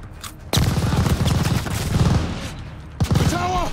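Sustained rattling bursts of gunfire in the Call of Duty: Vanguard D-Day Operation Tonga campaign mission, dense and loud, breaking off briefly before another sharp volley, with shouting voices under the shooting.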